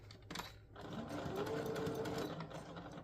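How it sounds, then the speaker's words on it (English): Home sewing machine stitching fabric for a garment pattern, a close, steady motor whir and rapid needle chatter running for a few seconds after a brief rustle of cloth. "We're going to sew it all the way down."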